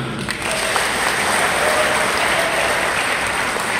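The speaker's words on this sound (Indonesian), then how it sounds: "Tepuk tangan." Applause from an audience at a religious and health lecture, a steady dense clatter of clapping that holds for several seconds at close range with no talk over it.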